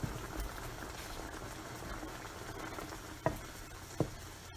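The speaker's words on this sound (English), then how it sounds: "we just wait for the mixture to cook down a little bit. Let some of the water evaporate out of it." Shrimp scampi mixture simmering in a pan while the liquid cooks down, a steady soft bubbling patter with two brief clinks near the end.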